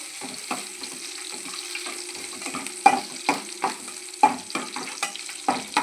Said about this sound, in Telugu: తెల్లుల్లి ముక్కలు వేసుకుంటున్నాను అనమాట. తర్వాత పచ్చిమిర్చి, ఎండుమిర్చి వేసుకుంటూ